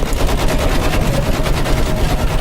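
Sustained machine gun fire from the Battlefield 1 video game, a loud continuous rattle of rapid shots with no pauses, dense and close throughout.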